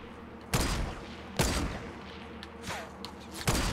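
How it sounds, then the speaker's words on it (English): Gunfire in Fortnite on Xbox One S: several sharp shots ring out at irregular intervals, a couple of loud close cracks and fainter distant pops over a steady game backdrop. "Shooting at me, hitting me."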